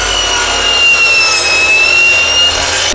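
A saw rips a wooden board lengthwise outdoors, trimming it to eight feet: a loud, continuous whining cut that holds steady for about three seconds and then stops abruptly.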